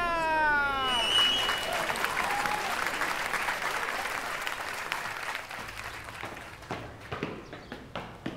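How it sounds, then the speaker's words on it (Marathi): Enthusiastic crowd applause greeting a Union Minister of State arriving at an event, dense clapping that swells then thins into scattered claps, with a voice speaking at the start. "यांच्यासाठी जोरदार टाळ्या."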